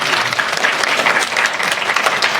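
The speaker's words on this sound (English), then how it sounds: "Let's give her a big round of applause" An audience claps steadily in a dense, sustained round of applause at a gender equality and inclusive leadership event, with no voices over it.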